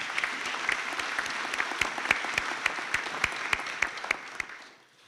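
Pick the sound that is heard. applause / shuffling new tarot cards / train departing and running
applause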